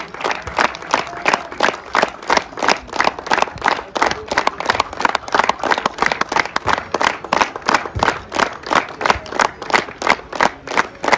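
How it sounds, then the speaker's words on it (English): Rhythmic clapping in unison from the crowd at a prize-giving for a hill cricket tournament in Pulbazar, Bijanbari, steady beats repeating about every quarter second for the whole stretch, loud and close. "Please clap for each and every one."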